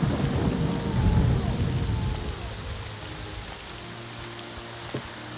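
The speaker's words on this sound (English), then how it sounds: "It's still raining." Rain and thunder in the video game Morrowind: a deep rolling thunder rumble swells loud at the start and fades, leaving steady rainfall hissing on underneath with a few small knocks near the end.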